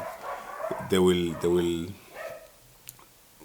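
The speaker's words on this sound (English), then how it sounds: "I've got these two brothers, ne? Dogs that are making noise." Two dogs next door barking, a pair of sharp, loud barks close together, with someone talking before and after them.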